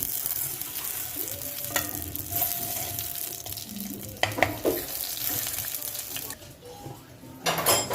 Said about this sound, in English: I'm just going to start to stir it simply because I want it to brown evenly